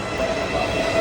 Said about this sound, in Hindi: ट्रेन आ गई।